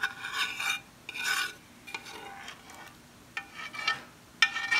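Metal utensil scraping against a metal pan while a turkey pot pie filling is smoothed out, a run of harsh rasping strokes in irregular bursts, close and fairly quiet.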